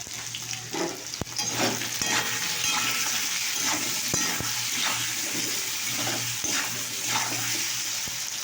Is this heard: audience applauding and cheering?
no